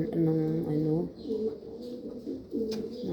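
Jacobin pigeons in a cage give several low, rolling coos in short bursts, close and fairly loud, with a voice speaking among them.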